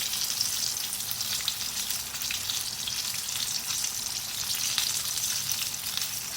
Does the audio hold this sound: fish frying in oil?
yes